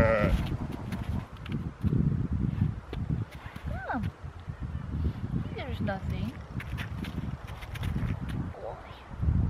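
Sheep bleat a few times on a winter hike in the Faroe Islands, wavering cries near and far amid shuffling and rustling, while a person talks.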